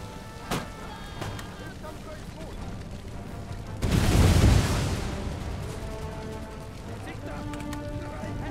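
A grenade blast in Total War: Empire rises as a loud, rumbling boom partway through and then trails off slowly, set over a constant bed of battle noise with scattered sharper cracks before it.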